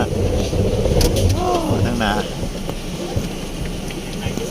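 Steady rain hisses down during a drive on a forest road to the Chan Dai cave temple in Laos, with engine rumble underneath and voices talking over it.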